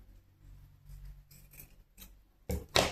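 Scissors snipping excess material from a handmade flower hair tie, with quiet rustling handling first and then two sharp close cuts at the end, no talk.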